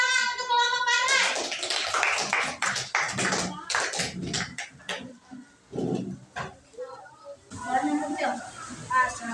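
Children clapping together in a classroom, a dense burst of many close hand claps mixed with children's voices and an adult speaking, with chatter continuing as the clapping fades.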